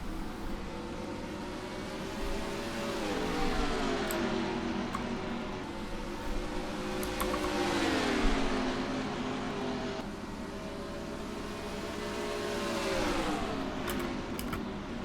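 Engine roar from a pack of stock cars in a Dover racing game, the Drydene 400 start, a steady loud droning whine rising and falling in pitch as the field accelerates, continuous throughout.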